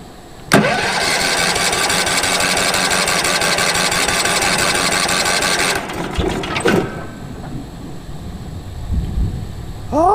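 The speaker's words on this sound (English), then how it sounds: "Probably going to take a little bit to get it to crank" A 1990s Wood Mizer LT15 band sawmill engine cranks with the choke on, a loud steady starter drone for about five seconds that stops abruptly, followed by a few clanks and a brief quieter rumble.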